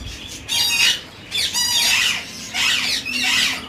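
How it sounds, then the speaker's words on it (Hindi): Grey parrots in an aviary give loud, harsh squawks in three bursts of rapid, repeated calls, separated by short gaps, close to the listener. "तो यहाँ पर ग्रे पैरेट्स हैं"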